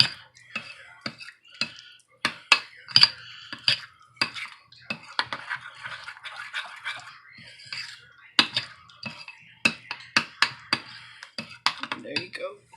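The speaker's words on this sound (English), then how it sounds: "Give it a stir." Spoon scraping and clinking against a cooking pot while beans in their juice are stirred, a steady run of sharp metallic taps and scrapes up close for several seconds, with a voice talking at times.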